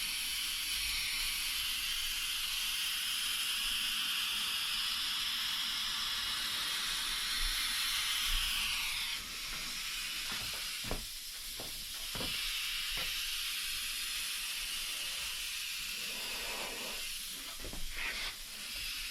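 Spray gun laying ultrafine silver coats over stripes on a Triumph motorbike tank at home: a steady, loud hiss of spraying for about nine seconds, then shorter on-off bursts of spray with brief gaps.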